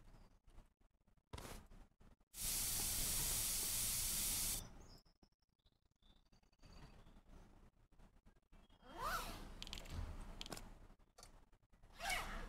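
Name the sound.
spray can hissing in Internet Cafe Simulator video game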